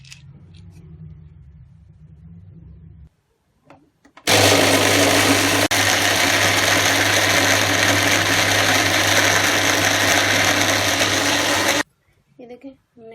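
Electric grinder pulverising peanuts into fine powder for homemade peanut butter, a loud steady motor whine that runs continuously for about eight seconds after a quieter hum and brief pause, then stops abruptly.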